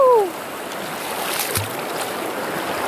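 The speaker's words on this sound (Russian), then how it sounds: "Как булькает-то." Water bubbles and rushes steadily in a cold stream pool, sounding close and continuous, with a brief whistling tone at the start.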